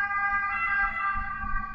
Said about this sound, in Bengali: আপনারা শুনতে পাচ্ছেন একটা অ্যাম্বুলেন্স আসতেছে